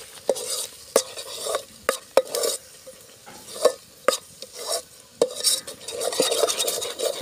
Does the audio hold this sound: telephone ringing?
no